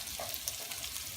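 Potatoes pan frying with thyme and rosemary give a steady, close sizzle and hiss that runs without pause, with faint stirring scrapes and no voices.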